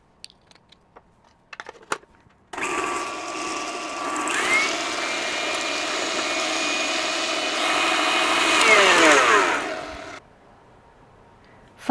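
An electric mixer whisks muffin batter with brown sugar replacement and vanilla on high speed, a loud steady motor whine with a rattling beater texture that runs about eight seconds before cutting off, preceded by a few light clicks.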